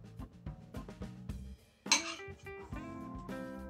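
A spoon mixes Olivier salad (Russian salad) in a bowl with repeated close clinks and scrapes against the dish, soft and quiet, including one brighter, sharper clink partway through.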